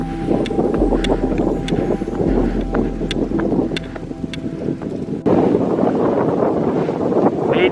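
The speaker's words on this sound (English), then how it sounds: "It's very windy up here." Strong wind at a hilltop overlook in Iroquois Park buffeting the microphone in a continuous loud roar, with gusty rumbling and occasional rattling, no voices.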